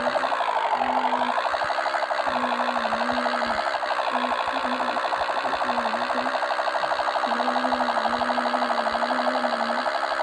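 A police car siren wails continuously and loudly nearby, a rising-falling electronic tone with a steady pulsing undertone, no voices.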